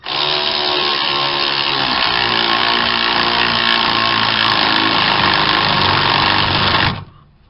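A power tool drives a sway link nut down with a 16 mm socket during a stabilizer link replacement on a 2004 Ford Ranger, one loud continuous whirring run of about seven seconds that stops abruptly.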